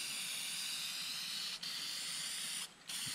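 A spray gun lays down a light coat of automotive acrylic enamel paint, a steady close broadband hiss that runs continuously and stops briefly twice near the end.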